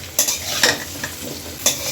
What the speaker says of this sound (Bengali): এখন নেড়ে ছেড়ে এঁচড়গুলোও ভেজে নিব।